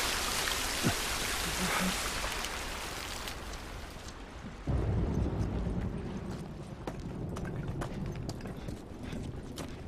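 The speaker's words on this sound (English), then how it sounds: "at least we're out of the rain" Steady heavy rain pours in The Last of Us game, a dense hiss that drops off and then returns as a deep rumbling wash, with scattered sharp drips and knocks throughout.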